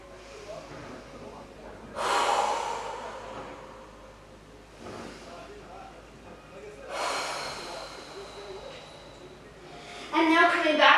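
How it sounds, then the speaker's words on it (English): Deep breaths after a Pilates leg exercise come as three or four loud, close inhales and exhales, each lasting a second or two, in a quiet room. "Just catching our breath, breathing deeply."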